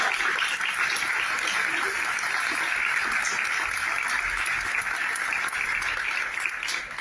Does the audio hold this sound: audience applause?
yes